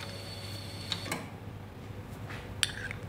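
A spoon stirs espresso in a cup, giving a few light, scattered clinks against the porcelain over a quiet, steady background hiss.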